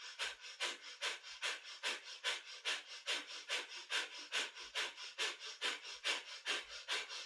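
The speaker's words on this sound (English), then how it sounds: "Breath of fire is our happy puppy breath, but through the nose." Rapid, rhythmic breath of fire yoga breathing through the nose, a steady series of sharp, close, evenly spaced huffs with no talking.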